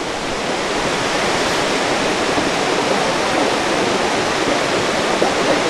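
Changey Waterfall in North Bengal pours as a loud, unbroken broadband roar of rushing water, steady and close throughout with no pauses and no voices.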